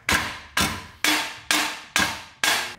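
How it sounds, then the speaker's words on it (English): A hammer strikes a stuck press-in rear hub on a Nissan Cefiro chassis build, six loud, sharp metallic blows about half a second apart, each ringing off before the next, with no talking. "nothing some hammering won't fix."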